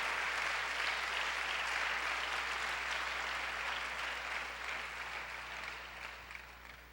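Church congregation applauding the Lord, a dense sustained wash of clapping that holds steady and then gradually fades toward the end.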